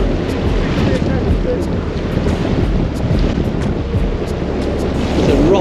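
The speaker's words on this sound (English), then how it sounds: "the tide is screaming through here" Tidal water rushes past rocks by the sea near a shipwreck, a loud steady roar of surging water and wind buffeting the microphone throughout, with voices faintly present.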